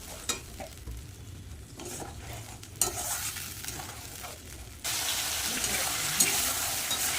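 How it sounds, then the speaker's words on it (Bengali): Onion and tomato paste fry in oil with black cumin for a dal, a steady close sizzle under repeated stirring scrapes, then a sudden louder, brighter hiss as the heat or contents change. "তেলের মধ্যে দিয়ে দেবো পেঁয়াজ আর টমেটো বাটা ভালো করে মশলাটা কষিয়ে নেব"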